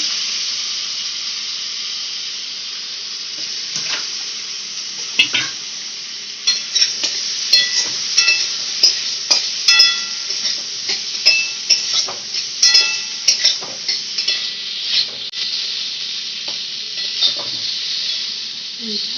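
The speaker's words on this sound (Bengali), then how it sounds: "আলু ভাজা হয়ে গেছে এবার" Potatoes fry and crackle in a pan under a constant sizzling hiss, while a spatula stirs and scrapes in a run of sharp, irregular clicks through the middle stretch, close up and without talk.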